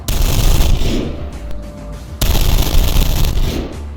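Heavy automatic gunfire rattles through a Roblox gang battle, loud continuous bursts with booming impacts, a brief lull near the middle before the firing surges back in.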